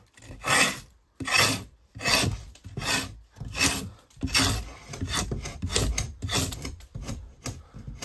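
Rhythmic scraping of wood while building a dugout, with firm rasping strokes about every half-second to second. The strokes are close and steady, and later ones run together into continuous rubbing.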